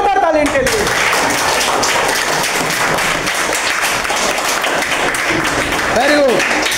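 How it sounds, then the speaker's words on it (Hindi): A classroom gives loud, sustained applause for a student's correct answer, dense clapping filling the whole stretch, with a teacher's voice briefly heard at the start and again near the end. "जोरदार ताली इनके लिए"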